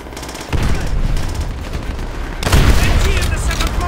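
Loud close gunfire from Call of Duty (2008), dense rapid bursts and booms that begin abruptly and swell again near the end, with shouted voices in the mix.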